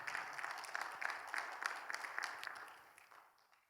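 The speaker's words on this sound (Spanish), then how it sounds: "¿Cuánto dan un fuerte aplauso al Señor, por favor?" A church congregation at a Bible seminar gives a round of applause, a small crowd's scattered hand claps that stay fairly quiet and fade out toward the end.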